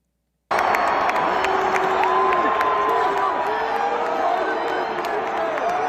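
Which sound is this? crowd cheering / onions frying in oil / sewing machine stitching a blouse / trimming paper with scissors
crowd cheering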